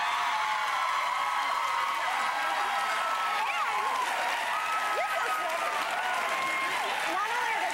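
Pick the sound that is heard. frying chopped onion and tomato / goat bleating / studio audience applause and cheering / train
studio audience applause and cheering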